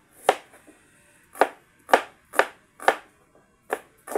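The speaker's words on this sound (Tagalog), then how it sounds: "Tatun tayo ng sibuyas." Onion is chopped on a board for adobo, with about eight crisp, separate knife strikes landing in an uneven rhythm, close up and alone with no talk.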